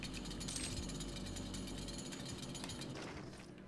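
Chainsaw weapon in the video game Doom, a steady rattling mechanical buzz that runs continuously and then eases off slightly toward the end, with no talking over it.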